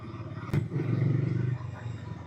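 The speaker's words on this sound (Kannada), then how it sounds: "ಡಾಮಿನಾರ್ 250 ಬೈಕ್ ಈಗ ಟೆಸ್ಟ್ ರೈಡಿಗೆ ಸಿಕ್ತು" A Bajaj Dominar 250 motorcycle with a 248 cc liquid-cooled engine gives a steady, low, throbbing hum at close range, with one sharp click early on.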